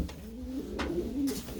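Breeding pigeons in a loft give soft, low cooing calls, a few short throaty coos close by with faint background rustle.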